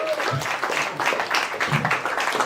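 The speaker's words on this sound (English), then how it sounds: "Clap for yourself" Comedy club audience clapping during crowd work, a steady dense patter of many hands, with brief voices and laughter mixed in.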